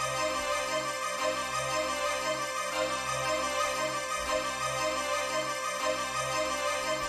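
A looping chopped melody with a slowed, halftime groove repeats in bars, thick and steady with a recurring bass pulse.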